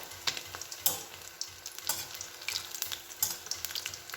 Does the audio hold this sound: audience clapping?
no